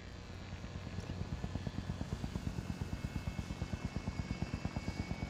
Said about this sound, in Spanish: este helicóptero es lento como la mierda